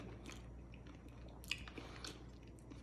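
Someone chews a crunchy coffee-flavored chocolate up close, with faint, soft crunches and moist mastication sounds, a few sharper bites standing out, and no talk.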